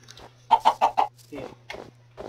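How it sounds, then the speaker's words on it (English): Chickens clucking in the Minecraft video game: four loud, evenly spaced cluck calls in quick succession, then a few softer cluck-like sounds, over a steady low background hum with no talk. "I think snow biomes is where chickens spawn the most."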